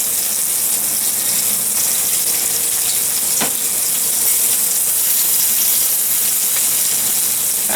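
Lamb chops fry in olive oil on a cast iron grill pan, making a loud, steady, bright sizzle throughout with one sharp tap partway through.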